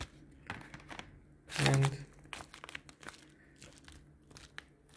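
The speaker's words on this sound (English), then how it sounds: "Now let's take out the box from the inside." An SSD box is pulled out of crinkly plastic packaging, giving one loud rustling crackle followed by smaller scattered crinkles and handling noises close to the mic, with a brief spoken word.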